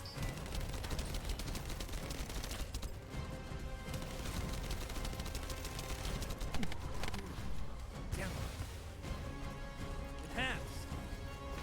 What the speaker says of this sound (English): Operating assault turret.